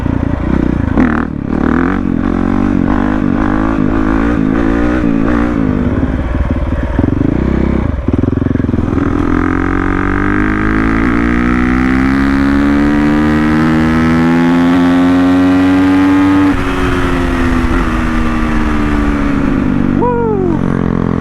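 A dirt bike fitted with street tires accelerates hard through its gears, the engine note climbing repeatedly then holding a loud, rising drone as it rides by close, with no talk over it.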